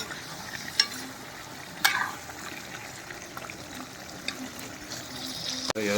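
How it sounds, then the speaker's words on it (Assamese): Broiler chicken meat frying and being stirred in a pan, a quiet sizzle under occasional scrapes and clinks of a utensil, with a sharp clatter near the end. "এতিয়া মাংসটো ধুনীয়াকৈ ভাজি কৰি লওঁ। একদম পূৰা ফ্ৰাই কৰি আছোঁ মাংসটো মই।"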